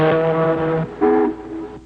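A voice imitates an ocean liner horn, giving two low, droning honks, the first long and the second shorter, heard close and loud.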